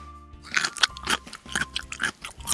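Crunchy bites and chewing of an orange carrot come in a close, rhythmic series of loud crisp crunches over about two seconds, with a faint steady tone underneath and no speech.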